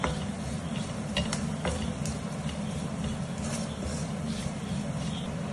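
Masala with garam masala fries in a pan with a steady low sizzle, while a spoon scrapes and stirs in irregular clattering strokes close by.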